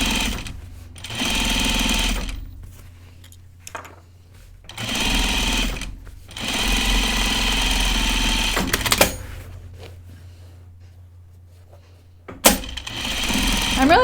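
A sewing machine stitches an Audrey Jean jacket in several steady, rapid whirring runs separated by pauses, close and fairly loud, with a sharp clunk or two between bursts.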